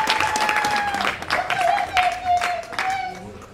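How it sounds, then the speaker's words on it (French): An audience applauds at an orphanage visit, steady clapping across the room while a sustained tone and voices carry over the top throughout. "Vous pouvez applaudir s'il vous plaît."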